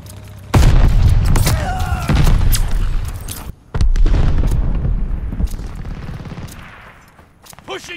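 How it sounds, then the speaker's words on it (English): A grenade blast in the shooter game Call of Duty Vanguard, a loud sudden boom that rolls into sustained gunfire, then a second heavy explosion a few seconds later that fades out slowly, with voices shouting among the combat. "Put them down. Grenade."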